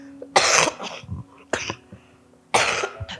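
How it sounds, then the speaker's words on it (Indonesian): A man with a lingering two-week cough coughs three times, close and loud, each burst rough and harsh with short pauses between them. "Maaf nih gangguan batuk, ini sudah 2 minggu nih belum tuntas juga"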